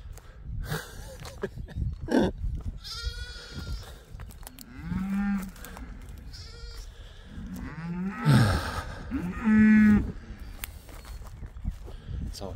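A cow with her head stuck in a chicken coop gives several drawn-out moos of rising and falling pitch, with louder calls late on, amid shuffling and footsteps nearby.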